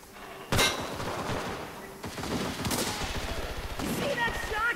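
Rapid gunfire in the World War II shooter Enlisted, with a loud shot followed by dense bursts of rifle and machine-gun fire rattling continuously in the background.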